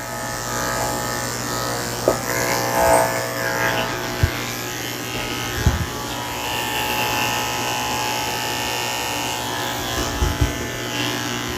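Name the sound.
electric clippers with 7-blade shaving goldendoodle's back legs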